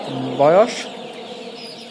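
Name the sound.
Sonali hybrid chickens clucking on a farm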